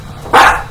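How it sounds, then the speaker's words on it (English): A single loud dog bark sounds close by, one sharp burst standing out from a quiet indoor background. "My dog is barking."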